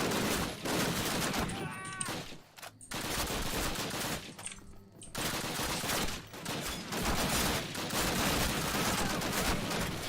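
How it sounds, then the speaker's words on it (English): BAR machine gun firing in the Call of Duty video game, rapid loud bursts of automatic fire broken by short pauses, with faint voices mixed underneath. "Now, this time we're armed with a bar machine gun"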